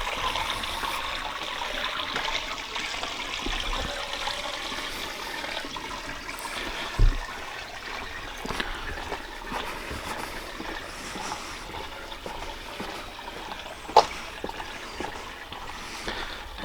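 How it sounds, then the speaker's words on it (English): Free-flowing water runs down a slippery track on the lower part of Lower Street near Dittisham, a steady close rushing trickle with occasional scuffs and knocks on top. "I've got a free flowing water coming out there,"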